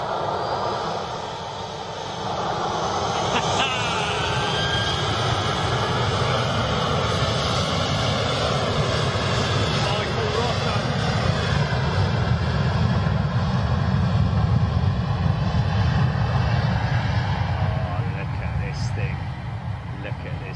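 Airbus A350 jet turning in at an airport position, a broad steady roar of engine noise that rises after a couple of seconds and holds loud and fairly close, with a faint whine over the top.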